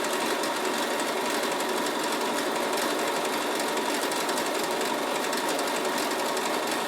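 A Bernina sewing machine stitches continuously at a steady fast pace, its rapid mechanical chatter running evenly throughout without any pauses or voices.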